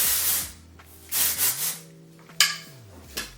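Several short hissing bursts of a dry shampoo aerosol spray, separated by pauses, with a low electric hum underneath.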